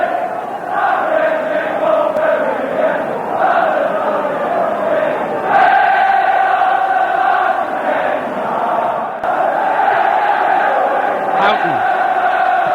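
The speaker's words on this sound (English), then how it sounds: "Had the crowd on their feet, the Brentford supporters." Brentford supporters roaring and cheering on their feet during an FA Cup match against Liverpool in 1989, a sustained, dense stadium crowd noise that swells and holds steady throughout.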